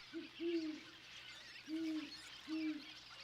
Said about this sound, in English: Great horned owls share these cliffs.